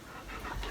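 A dog pants in quick, breathy huffs close by, short and continuous with no voices.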